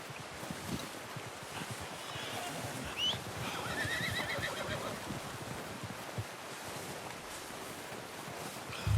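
A horse in Red Dead Redemption 2 gives a short whinny in the middle of a quiet, windy outdoor scene, over faint clip-clopping hooves.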